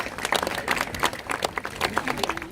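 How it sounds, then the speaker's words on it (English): A crowd at a beluga show claps for marine mammal trainers, a dense, lively patter of many hands that holds steady and fairly close throughout. "Please give a big round of applause to trainers Phil, Nikki, and Kevin"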